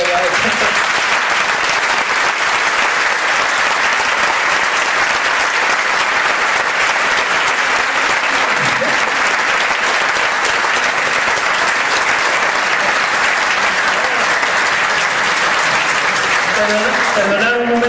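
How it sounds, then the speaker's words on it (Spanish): Long, loud and sustained audience applause after a speech at Lluïsos d'Horta in Barcelona. It keeps a dense, even clatter for nearly eighteen seconds, and voices break through near the start and end. "a mí nunca me habían aplaudido tanto"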